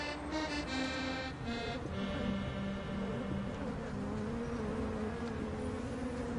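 Honeybees buzz around hives on the Paris Opera rooftop, a continuous close drone with a few wingbeats passing nearby over faint city background.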